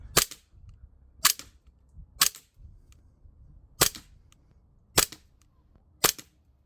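Six sharp shots from an Umarex Glock 19 Gen5 MOS air pistol, each a crisp snap spaced about a second apart with quiet gaps between them, loud and close.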